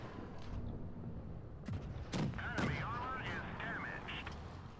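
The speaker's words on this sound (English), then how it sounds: "we are just pounding the shots into him" Tank cannon shots ring out during a World of Tanks Blitz battle, a few sharp booming blasts spaced over several seconds amid steady game noise, with tonal mechanical whines in between.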